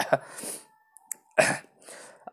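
A couple of short, sharp coughs close to the microphone, separated by a brief pause, with faint throat noise.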